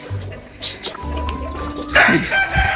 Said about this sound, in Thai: อันนี้ก็จะเป็นฟาร์มไก่ของคุณพ่อนะคะ